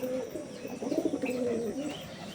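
A Madras pigeon coos nearby, a soft throaty burbling call that rises and falls over about two seconds against a quiet room.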